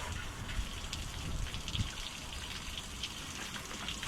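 Water hose spraying a steady broadband wash inside the opened engine bay of an excavator during routine maintenance, a continuous rain-like hiss with a few louder gushes as the stream strikes metal surfaces nearby.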